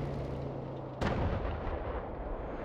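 A single heavy cannon blast from the video game World War Armies booms suddenly after a low hum, followed by a rumbling, fading roar.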